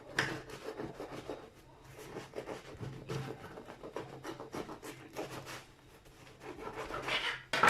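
A knife saws back and forth through a loaf of homemade bread in soft, close, rhythmic rasping strokes, with the crust crackling faintly under the blade.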